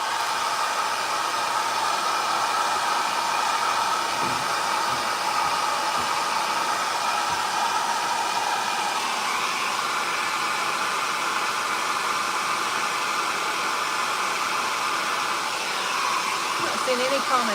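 A hair dryer blows steadily on a thrifted book holder being redone, a continuous close, even whooshing hum that holds throughout with little change in pitch or loudness.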